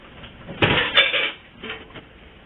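A lid set down on a pot of oha soup gives a close metallic clank followed by a second, lighter rattle as it settles, with no talking.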